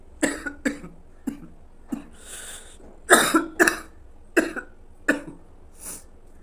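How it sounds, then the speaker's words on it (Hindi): A man with a sore throat coughs repeatedly, with about ten sharp, separate coughs at irregular intervals and a couple of breathy throat sounds between them. No speech. "बार बार खांसी आ रही है"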